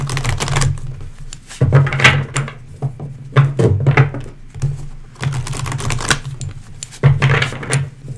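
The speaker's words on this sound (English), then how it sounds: "couple more shuffles" Rapid papery riffling and soft tapping as tarot cards are shuffled close by, repeating in several rough bursts with a low hum underneath.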